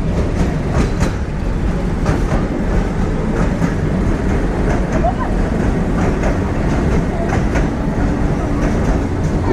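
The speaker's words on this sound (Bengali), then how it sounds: "এই মেঘনা ব্রিজে আমাদের ট্রেনের রানিং স্পিড দেখতে পাচ্ছি 30 কিলোমিটার।" Upakul Express passenger train crossing the Meghna bridge at about 30 km/h, a steady loud rumble with rhythmic clickety-clack of wheels over rail joints throughout, with faint voices underneath.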